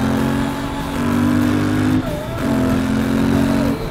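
A Royal Enfield motorcycle engine runs steadily at a low, throbbing idle-to-cruise pitch, loud and close, with a brief dip around the middle before the drone resumes.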